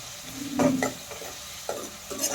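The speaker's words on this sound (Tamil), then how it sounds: "பச்சை வாசம் போகிற அளவுக்கு வதக்கிட்டு தக்காளி போட்டு இஞ்சி பூண்டு பேஸ்ட் போட்டு" Onions cooking with tomato and ginger garlic paste in a pan, with a few stirring scrapes and light sizzle at close range, utensil clinks between strokes and no talking.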